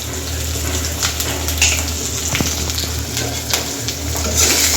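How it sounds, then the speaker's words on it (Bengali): Spice paste for a duck curry, with salt, turmeric, coriander and cumin powder, sizzles and fries steadily in a pan, with occasional stirring scrapes over a continuous crackling hiss. "মশলাটা ভালো করে কষে নেব"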